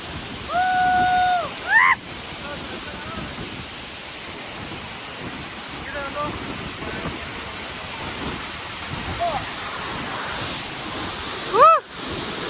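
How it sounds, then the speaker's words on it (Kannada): Waterfall at Kote Betta in Coorg roaring as a dense, steady broadband wash, with a couple of short whistle-like tones and brief voices over it. "ನೋಡಿ ಹೇಗಿದೆ ವಾಟರ್ ಫಾಲ್ಸ್"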